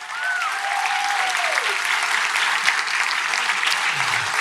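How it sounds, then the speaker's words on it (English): An audience applauds steadily throughout, a dense wash of clapping at even strength, with a brief faint voice near the start. "let's give a round of applause for that"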